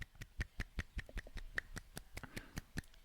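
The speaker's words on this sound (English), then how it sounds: "It's not a good clap" A person makes sharp, close hand claps in an indoor conversation, a quick uneven series of crisp smacks about every fifth of a second, alone without talk.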